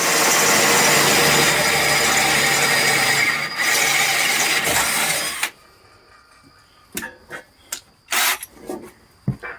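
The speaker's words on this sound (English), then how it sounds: "One more drill." A loud power drill runs continuously for about five seconds, then stops, followed by quieter clanks, taps and short bursts of handling noise.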